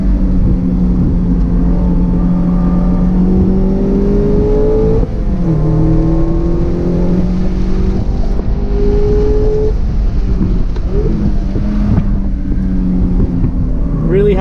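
A Mazda MX-5 Miata (ND1) engine drones and revs up through the gears on a race track, loud and close, pitch rising and dropping with each shift.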